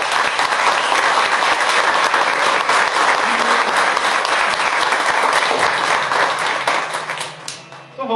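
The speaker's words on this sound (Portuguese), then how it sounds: "Vamos aplaudir o Senhor pela vida deles." A church congregation gives a sustained burst of applause during a service presenting two children, dense and loud clapping from many hands filling the room, then thinning out and fading near the end.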